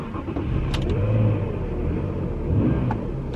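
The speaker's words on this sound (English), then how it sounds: "It's been left for ages, this car, and it always does start." A car left unused for a long time runs with a deep, steady engine rumble that swells twice as if briefly revved, heard close and alone.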